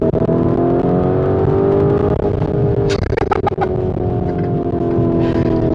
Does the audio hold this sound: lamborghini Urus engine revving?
yes